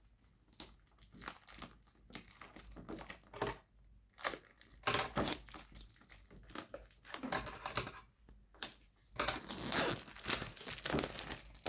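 A DIY journal kit being unwrapped, with packaging crinkling, crumpling and tearing in irregular bursts and brief pauses, close and fairly quiet, with no talking.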